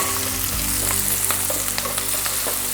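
Garlic with red and green chilies fries in a pan, a loud, dense sizzle with scattered crackles and pops and a few soft stirring sounds throughout.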